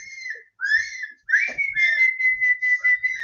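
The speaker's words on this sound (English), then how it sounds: "Should we whistle for her cat," People whistle to call a cat, sounding a few bright, rising and sliding whistled notes with short gaps between them, close and unaccompanied by talk.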